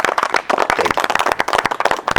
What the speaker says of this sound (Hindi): भरोसे भाई की भैंस के लिए एक बार जोरदार तालियां हो जानी चाहिए